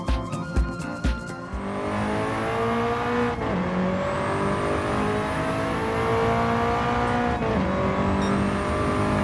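A turbocharged race car in Gran Turismo 7 revs hard through a lap, its engine note rising and falling with gear shifts, preceded by a few sharp thumps at the start, loud and alone.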